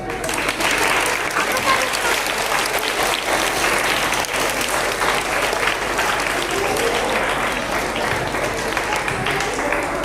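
Sustained applause from a crowd of children at a church Vacation Bible School, dense steady clapping filling the whole stretch without a break.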